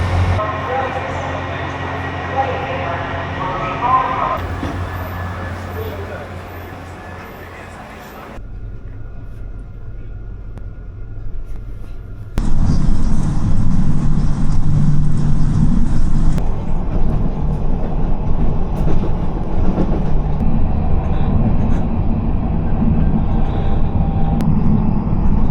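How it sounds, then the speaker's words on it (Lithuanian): A small blue train runs past with a steady, loud rumble and rattle that swells partway through and then holds strong to the end. "Mėlynas traukinukas."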